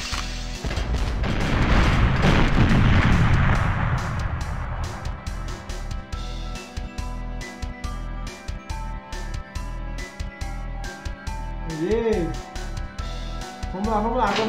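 A grenade blast in the retro shooter GoldenEye 007: a loud, deep boom swells and rolls for several seconds, then fades into quieter game sounds with scattered short pops.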